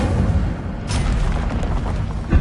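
Incendio fire spell cast in the Hogwarts Legacy video game: a whooshing burst of flame with a crackling rush, followed by a low thump at the end.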